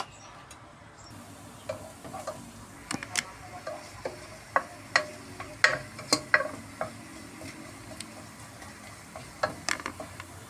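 Ginger sautéing in a little oil as the base for chicken tinola: a soft, quiet sizzle broken by scattered sharp pops and ticks at irregular intervals.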